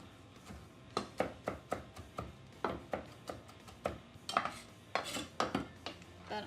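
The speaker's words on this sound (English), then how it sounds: "So I'm just going to chop up some mint to go into my salsa." Mint leaves being chopped with a knife on a board, a series of about sixteen quick, sharp taps in an uneven rhythm, close and fairly quiet, with no talking.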